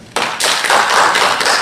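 A hall audience at a tribute event for young migrants breaks into loud, dense applause that swells within a fraction of a second and holds steady as a close wash of many hands clapping.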